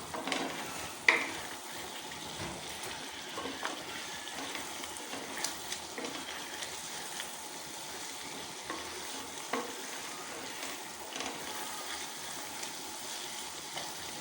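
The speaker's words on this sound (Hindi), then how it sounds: "अब हम मसालों को अच्छी तरह से मिक्स कर लेंगे इसमें" Spices being stirred into chicken karahi in a hot pan, a steady scraping stir over continuous sizzling frying with occasional louder knocks, no voices.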